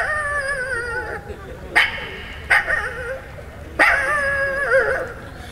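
A person imitating a dog barking, voicing a series of wavering, whining bark and yip sounds, about four distinct bursts, fairly loud and close.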